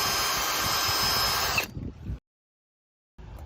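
A power drill bores holes for mounting boarding steps on a boat, whining loud and steady for about a second and a half before stopping, then a short silence.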